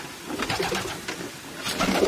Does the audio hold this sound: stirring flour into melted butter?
no